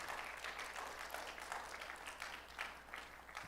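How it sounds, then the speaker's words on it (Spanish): A church congregation applauds in a steady, faint patter of clapping from many hands, sustained for a few seconds with no voices on top. "Denle un aplauso al Señor."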